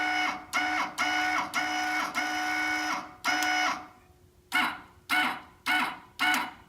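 An electric linear actuator with 2-inch travel drives a car's cable in repeated whirring strokes, several sustained runs followed by short quick bursts separated by brief silences, close and clear.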